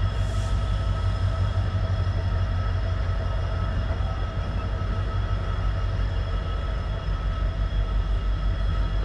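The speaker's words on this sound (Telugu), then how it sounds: "మన Kachiguda నరకడ intercity express Kachiguda railway స్టేషన్కి బాయ్ అని చెప్తూ" The Kacheguda–Narkhed InterCity Express departs Kacheguda railway station with a steady, loud rumble of rolling wheels and a humming engine, continuous and close throughout.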